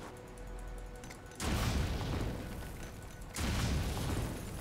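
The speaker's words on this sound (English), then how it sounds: "Do I really want to throw a grenade and try and blow it up?" A grenade explodes in Metal Gear Solid V: Ground Zeroes, giving two deep, booming bursts about two seconds apart over a rumbling in-game background, with no talk.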